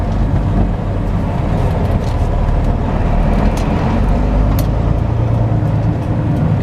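A flatbed truck rolls along back roads with a constant loud low engine rumble and road noise, steady from start to finish with no talking.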